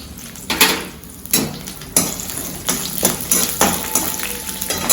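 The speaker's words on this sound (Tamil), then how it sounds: "இதுல இஞ்சி பூண்டு எடுத்து வச்சிருந்தோம் இல்லையா, அதை இதில் போட்டுடலாம்" Ginger and garlic frying in a pan of hot oil, a steady sizzle broken by several loud stirring scrapes and clinks of a utensil against the pan, close up with no talking.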